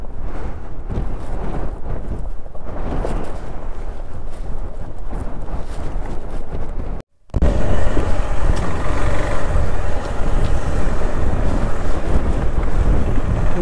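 Strong wind roars loudly against the microphone during a monsoon motorcycle ride in Kerala, a steady buffeting rush that cuts out briefly midway, then returns even louder and denser.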